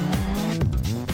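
Rally cars slide through a stage lined with spectators, engines revving and falling in quick, sweeping bursts over close, continuous tyre noise.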